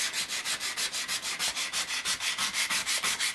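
Coarse 80 to 100 grit sandpaper scrubs by hand across a knife blade made from a saw blade, in quick, even back-and-forth strokes, close and alone.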